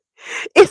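A single sharp sneeze, preceded by a brief breathy intake, close and loud.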